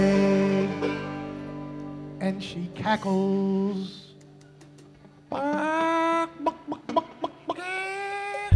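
A hen clucks and squawks in a series of loud, close, uneven calls with short pauses between bursts, some calls stretching into longer drawn-out notes.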